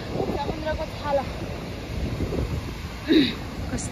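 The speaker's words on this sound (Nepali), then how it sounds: "कस्तो राम्रो छाला आइरहेछ।" Ocean waves wash in steadily on the sea off Goa, a continuous near surf roar mixed with heavy wind buffeting the microphone and faint voices in the background.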